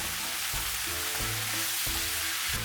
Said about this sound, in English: Add the onion and the mushrooms. Stir for 30 seconds.